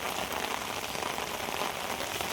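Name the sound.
rain starting to fall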